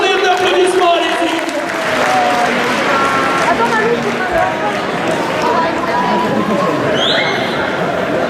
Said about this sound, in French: Je vous demande, mesdames et messieurs, de le faire un tonnerre d'applaudissements, allez-y.